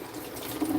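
Water poured during campfire cooking of a Cornish hen, a brief close splashing trickle that swells slightly toward the end.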